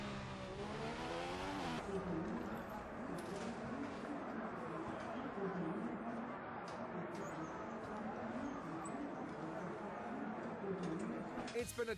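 A Formula 1 car in F1 2015 at the Brazilian Grand Prix completes a qualifying lap, its engine screaming and shifting through gears near the start, then droning steadily with sharp transient clicks, under commentary speech.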